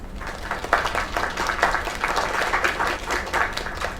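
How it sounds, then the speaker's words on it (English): Crowd applause in a video game plays as a continuous wash of clapping at moderate volume, steady throughout with no voices over it. "Another round of applause."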